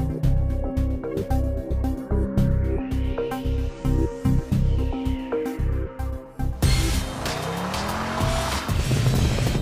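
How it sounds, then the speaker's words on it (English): Audi A5 quattro driven hard, engine revving in rhythmic pulses, then tires squealing loudly as the car is steered sharply side to side while finding grip. "I'm steering quite hard to try to spin, and it's just finding grip"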